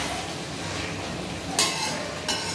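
Chilli chicken frying and being stirred in a pan as its liquid cooks down toward the oil, giving a steady close sizzle with two sharper scraping clatters near the end.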